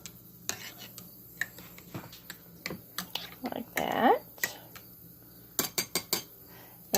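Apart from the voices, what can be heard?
knife removing air bubbles in canning jar of green beans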